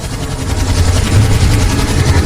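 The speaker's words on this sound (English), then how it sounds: "Zahe, do you hear some helicopters" Steady low rumbling drone with a throbbing, rotor-like pulse, continuous and fairly loud, suggesting helicopters passing nearby overhead.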